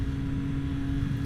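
Steady low engine rumble with a constant droning hum, close and continuous, from the exhaust of a 2024 Triumph Street Triple RS motorcycle heard while riding, with wind.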